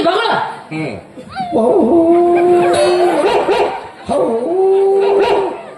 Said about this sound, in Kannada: ಏನ್ ನಾಯಿ ಬೆದಿ ಬಂದತ್ತ